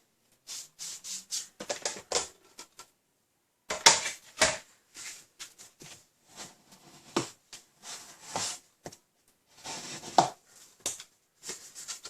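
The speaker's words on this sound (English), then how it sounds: "And then I can fold my card." Paper card being folded and creased on a work surface, a series of sharp, irregular taps, rustles and presses with short gaps, close and quiet with no voices.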